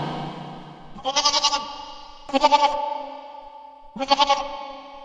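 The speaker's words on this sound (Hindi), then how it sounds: "बकरी का बच्चा डर जाता है और जोर जोर से रोने लगता है।" A young goat kid bleats loudly in fear, three quavering cries close to the listener with short pauses between them.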